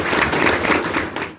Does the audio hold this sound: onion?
no